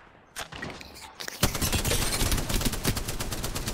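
A player firing a gun in Apex Legends: a few separate shots open, then a dense, sustained stream of rapid automatic fire at close range, loud and steady, with almost no talking over it.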